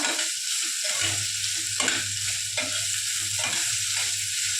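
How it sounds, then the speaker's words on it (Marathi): Onion for bhindi masala fries in a pan with a bright continuous sizzle, while a spoon stirs in repeated scraping strokes close by. "कांदा व्यवस्थित फ्राय करून घ्यायचा"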